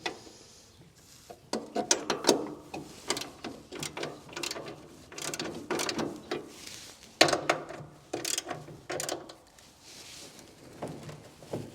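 A ratchet loosens the rear bolts on a Holden Torana GTR XU-1 door during restoration, with bursts of rapid mechanical clicking in quick runs, close and fairly loud, pausing between turns with no talk.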